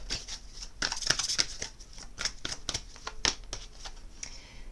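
Tarot cards being shuffled by hand in a dense, crisp riffling flutter, then drawn with a few sharper flicks, close and alone with no talk.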